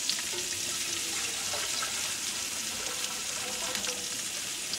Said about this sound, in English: I'm going to just pour a bit of water in here.